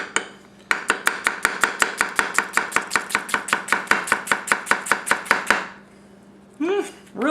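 A 210mm Tsutomu Kajihara gyuto knife julienne-cuts a tall onion on a cutting board: about two dozen crisp, evenly spaced chops in a quick steady rhythm, close and clear, then a pause and a brief scrape at the end.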